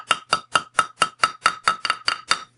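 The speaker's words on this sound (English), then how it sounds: "I've positioned my wire back on a mandrel, and I'm going to continue to hammer it." Ten sharp metallic hammer strikes on metal wire over a mandrel in a steady, even rhythm, close up and ringing briefly, with no talking.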